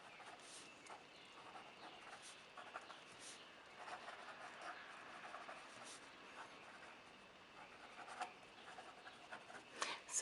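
A Montblanc Heritage 1912 fountain pen with a medium nib scratches faintly across paper in short, irregular strokes, close and quiet against a soft background hiss.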